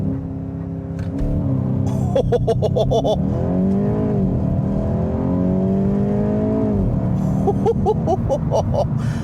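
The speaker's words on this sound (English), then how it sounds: "The first thing I want to do is test out the 0 to 60 time in the GTI." 2025 Volkswagen GTI launching from a standstill to 60 mph with launch control in sport mode, engine roaring loud and close as it revs through rising pitch sweeps, with quick gear shifts and clicking sounds between them.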